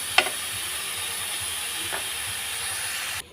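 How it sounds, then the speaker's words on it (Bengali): Thin-shredded chicken fries in a pan for an egg chicken mughlai paratha, giving an even, steady sizzle close by, broken by a couple of brief clicks and stopping abruptly at the end. "খুব ভালোভাবে এটাকে ভেজে নেবো"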